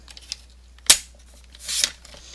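A Stampin' Up paper trimmer slices a paper strip with one sharp, close click, followed a moment later by a longer scraping glide of the blade.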